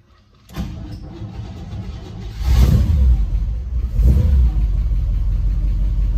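A 1958 Chevrolet Bel Air with a 348 big block V8 and flat tappet cam cranks and fires, then settles into a loud, rumbling idle with two strong revs, alone and close by.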